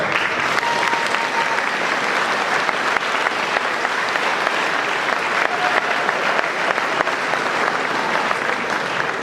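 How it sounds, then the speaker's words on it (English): A banquet audience applauds a first-place award for a 1964 Cadillac Eldorado convertible at a Cadillac LaSalle Club awards dinner, with dense, even clapping sustained for about nine seconds without a break. "You may now applaud."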